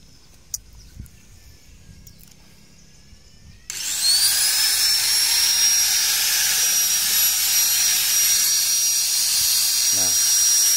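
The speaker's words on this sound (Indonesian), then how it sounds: "mesin gurinda seperti ini." An angle grinder cutting hard material at a building site starts up after a quiet stretch, then holds a loud, steady, piercing whine to the end.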